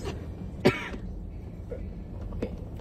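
A single sharp cough or throat clear bursts out close by, followed by a fainter one later, against a quiet car-interior background.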